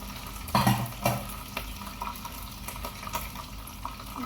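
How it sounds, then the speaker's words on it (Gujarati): Chana dal (split chickpeas) frying in a pan gives a soft, low sizzle with a few clinks and stirring knocks near the start, fairly quiet and steady, no talking. "ચણાની દાળ તળવાની મૂકી દીધી છે"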